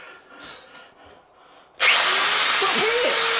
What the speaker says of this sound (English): Is that my best drill?